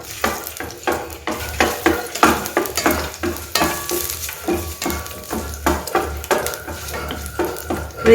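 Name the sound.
ginger and garlic sautéing in oil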